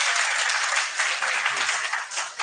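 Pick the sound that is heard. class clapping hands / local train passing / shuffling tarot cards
class clapping hands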